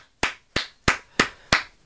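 Six slow, deliberate hand claps at a steady rhythm, crisp and close with silence between each, like sarcastic single applause.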